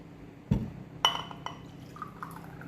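Homemade detox water is poured into a glass, with a few sharp clinks and taps followed by soft trickling liquid, quiet and close with no talking.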